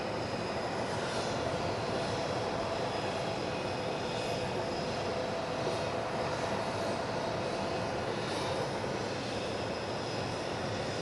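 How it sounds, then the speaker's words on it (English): Jet engines of the presidential airplane roar steadily as it shuts down after arriving in Utah, a loud, continuous broadband whine and rush that holds level without pause. "You can just still hear the engines are just so loud of the plane still roaring as things shut down"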